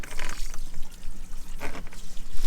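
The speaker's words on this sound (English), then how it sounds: "Oh, hot shower, best thing in Vanlife." Hot shower water runs and splashes inside a camper van, a close steady spray with uneven trickling bursts and no talk.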